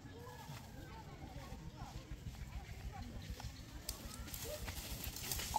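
A farm horse pulling a newly built horse-drawn cart clip-clops along a village road, its hoof beats steady and moderately close under a constant wash of background noise and occasional chatter.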